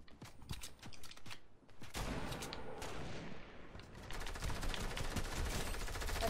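Sniper fire in a Fortnite match: a run of sharp, snappy shots and mechanical clicks gives way to a dense wash of louder gunfire and clatter that builds toward the end.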